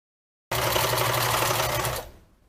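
A sewing machine backstitching a seam runs in one steady, close whirring burst of rapid needle strokes for about a second and a half, then stops abruptly and trails off.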